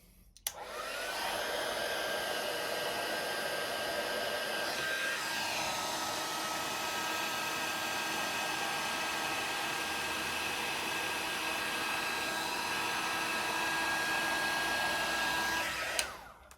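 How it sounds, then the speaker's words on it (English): A hot-air heat tool blows a steady, loud whooshing roar for about fifteen seconds while melting embossing powder on a gilded-leaf card, switching on and off abruptly at each end. "get your heat tool nice and hot, and then take it to the powder"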